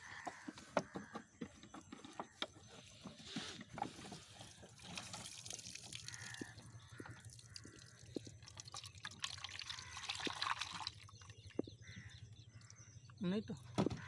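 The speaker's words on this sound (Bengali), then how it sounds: "তো চলো তোমাদের থালার মধ্যে ঢেলে দেখাই।" Water and freshly caught fish from a village fishing trap are poured into a plate outdoors, producing splashing, trickling and dripping sounds with scattered wet knocks, while a person talks over it.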